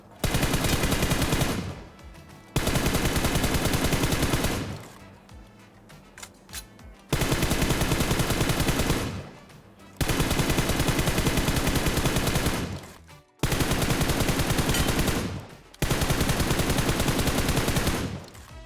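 Sustained bursts of rapid gunfire from an aim-training game mode with moving targets, loud and continuous for a couple of seconds at a time, separated by short quiet gaps, with no talking.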